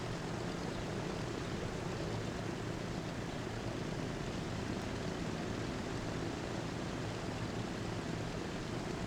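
A propeller plane in Transport Fever 2 drones with a dense, continuous engine roar that stays steady and fairly loud, heard alone with no talking.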